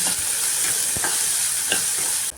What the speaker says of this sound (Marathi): कांदा मिरची छान तेलात परतवून घ्यायची.